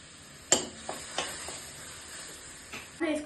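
Butter, flour and milk being mixed in a pan, a low simmering hiss with several sharp spoon clinks and scrapes spread unevenly through, quiet and close, no speech.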